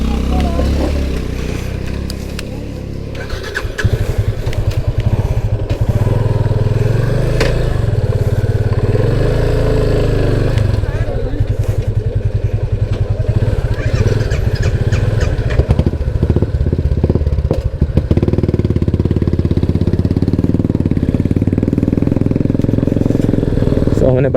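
A motorcycle rides with a steady loud engine drone and some clatter, a voice talking over it throughout.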